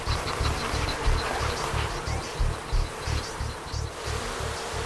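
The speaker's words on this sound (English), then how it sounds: "Rude, it's time to get these bees off" A swarm of honeybees buzzes thickly and steadily around a person being covered in them, a close, dense drone with a pulsing low hum and no talking.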